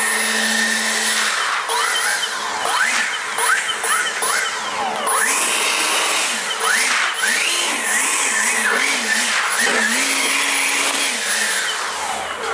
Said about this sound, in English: for getting this fine dust off here, I'm just gonna use my blower here